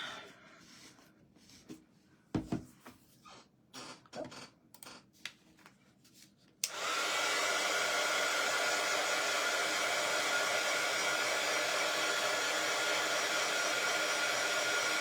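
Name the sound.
hair dryer drying paint on birdhouse kit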